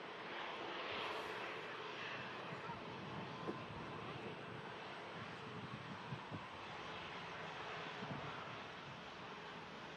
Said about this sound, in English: That aircraft's on the return leg now, just on the taxi out